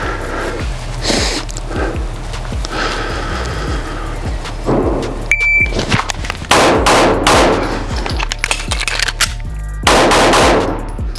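Smith & Wesson M&P 9 M2.0 pistol fired in a timed drill, a series of sharp, loud, close shots, sparse at first, then faster clusters with metallic clanks in between.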